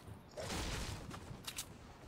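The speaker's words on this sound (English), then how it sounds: "I can hear the sounds of bullets flying all over" Gunfire in the Fortnite video game, a burst of distant shots crackling in the middle, then a couple of sharper bangs near the end, faint and muffled under a low ambient rumble.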